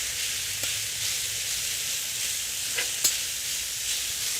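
Drained noodles sizzle steadily on a hot oiled griddle for a chicken stir fry, a soft continuous hiss with a couple of faint clicks of stirring.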